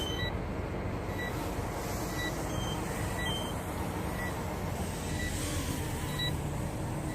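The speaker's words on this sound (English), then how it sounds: "The buzzer is going off at me." A low battery buzzer sounds as a series of short, thin, high beeps at irregular intervals over a steady engine drone.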